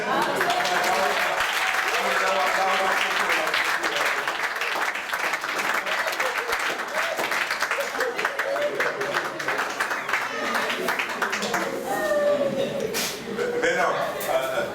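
Congregation in a church applauding during a special Father's Day service, sustained clapping filling the room for the whole stretch with a voice speaking over it near the end.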